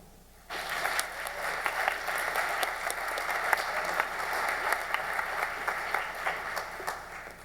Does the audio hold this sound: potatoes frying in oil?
no